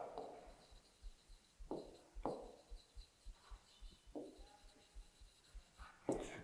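Chalk or marker writing a number on a classroom board, faint scratchy strokes in irregular bursts over a low steady hum, with no talking.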